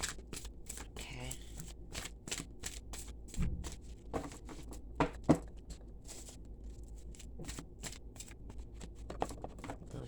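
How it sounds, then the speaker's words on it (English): Tarot cards are shuffled by hand in a series of quick, crisp riffles and flicks, close and fairly loud, with brief pauses between bursts and soft speech occasionally underneath. "Little shuffle here."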